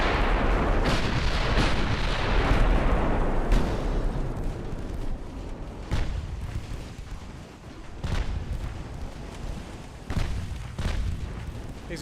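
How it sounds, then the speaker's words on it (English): Battleship guns firing in the naval game Ultimate Admiral Dreadnoughts: a heavy opening salvo rolls into a long rumbling decay, followed by several more deep booms spaced a couple of seconds apart, loud and close. "fire the guns!"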